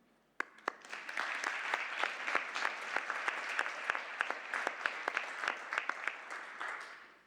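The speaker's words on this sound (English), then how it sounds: "A big clap, especially to Amy Sargent and Michaela Mason" Applause at a conference closing for the organising team: many hands clap steadily after a sudden start, with sharp individual claps standing out near the front, sustained for several seconds and fading slightly at the end.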